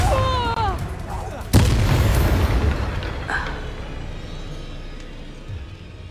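A fire curse explosion in Hogwarts Legacy bursts out as a single loud, sharp blast, then rumbles off and fades over several seconds after a brief whistling spell tone.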